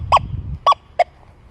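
An XP Deus 2 metal detector set to a lowered silencer level gives three short, bright electronic chirps, spaced about half a second apart, over low ground rumble with no talking.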